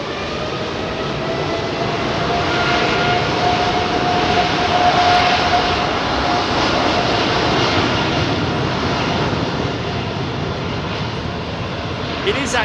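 Jet airliner engines roar steadily at London Heathrow Airport, a loud, broad, sustained rumble with a faint whining tone inside it that never lets up. It is heard from a distance, and no talk rises above it.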